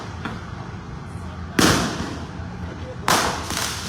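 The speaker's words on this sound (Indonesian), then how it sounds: "Bisa dilihat petasan kembali ditembakkan sahabat Kompas.com" Firecrackers are set off at a street protest beneath a flyover, two sharp loud bangs about a second and a half apart, each leaving a short crackling tail over a steady background of crowd noise.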